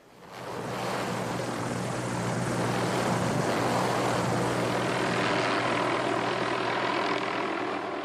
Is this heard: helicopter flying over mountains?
yes